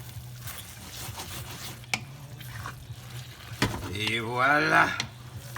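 Shrimp stirred into a tomato and coconut milk sauce in a pan, soft scraping and bubbling under a steady low hum, with a person speaking briefly near the end.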